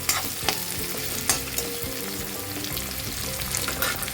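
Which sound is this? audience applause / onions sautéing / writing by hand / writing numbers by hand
onions sautéing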